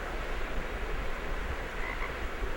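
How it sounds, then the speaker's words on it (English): Frogs croak in a dense, continuous outdoor chorus on an island trail, a steady rough texture with no voices. "There's a frog over here."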